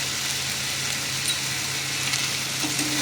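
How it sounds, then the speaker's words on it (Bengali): Chunks of elephant foot yam fry with spices and chilli powder in a pan, giving a constant close sizzle with soft scraping stirs throughout. "ওলের সাথে মশলাটাকে ভালো করে আমি মিক্স করে দেবো"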